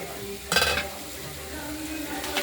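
Potatoes, beans and tomatoes cook with ground spice paste in a pan, a soft sizzle with a short, louder burst of stirring and scraping near the start, then a low, steady simmering hiss.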